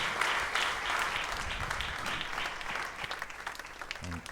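An audience claps in a church, a dense, loud round of applause that gradually thins out, with a voice briefly heard at the end.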